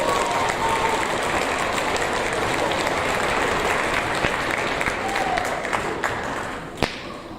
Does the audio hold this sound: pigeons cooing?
no